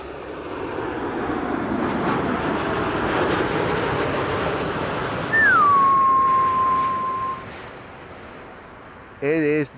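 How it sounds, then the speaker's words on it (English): A passing airplane's geared turbofan engines give a clear whistling tone that glides down and holds steady over a broad roar, arriving at an airport runway on a sunny day, with a brief burst of other noise at the end. "It is the geared turbofan engine whistle."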